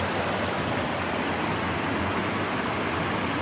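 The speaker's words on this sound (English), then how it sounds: "Hey, look at the white water over there." White water rushes in a big mountain creek, a loud, steady broadband roar with no breaks, close by and alone without voices.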